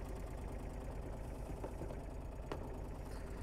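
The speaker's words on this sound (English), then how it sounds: "the engine seems like it's running pretty good" The engine of an Argo 6x6 amphibious vehicle runs at a steady idle with a constant, throbbing mechanical rumble close by and a couple of faint knocks.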